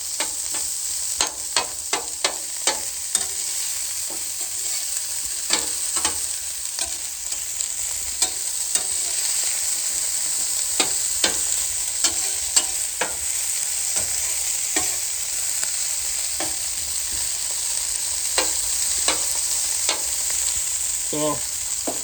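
Metal spatula scraping and tapping on a hot Callow four-burner plancha griddle while food sizzles steadily, with irregular sharp clicks and scrapes scattered over a continuous frying hiss.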